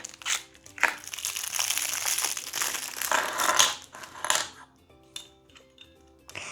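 Toy box packaging is torn open with loud crinkling and crushing of plastic and cardboard, dense at first and then breaking into sparser rustles and rattles.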